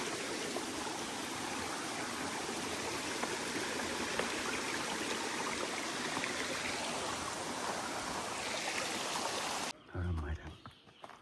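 A forest river rushes along the Agasthyarkoodam trekking trail, a steady broadband roar of flowing water that fills most of the stretch, then drops away abruptly near the end with a brief thump.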